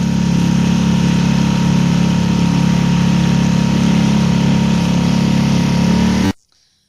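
A steady, loud motor drones without a break for about six seconds, then cuts off abruptly into silence.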